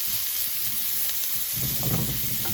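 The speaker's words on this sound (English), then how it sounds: "I'm just browning this chicken off" Chicken pieces brown in a hot pan for a chicken curry, producing a continuous close sizzle that grows louder and more crackly partway through.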